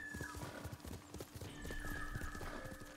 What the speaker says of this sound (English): You're a good horse, Kage